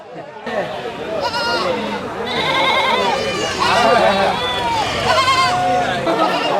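Several goats bleat repeatedly and wavering over a busy background of crowd chatter, loud and close.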